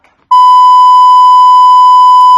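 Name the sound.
phone low battery warning beep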